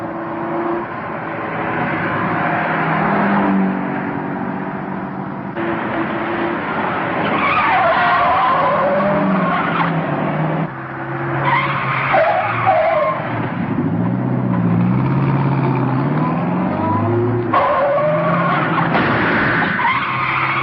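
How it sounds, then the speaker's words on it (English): A car screeches through a corner with squealing, skidding tires, then accelerates hard with a rising engine roar, loud and close, with repeated tire squeals and no speech over it. "Take the next corner easy and then step on it."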